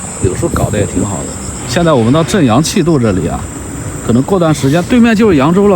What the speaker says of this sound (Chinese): 夏天这个虫鸣啊